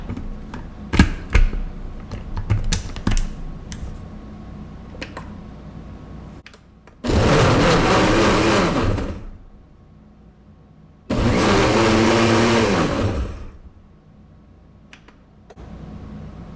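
A Ninja Foodi XL blender grinds pizza sauce ingredients in two loud, steady motor bursts of a few seconds each, separated by a pause and preceded by light clicks and handling noises.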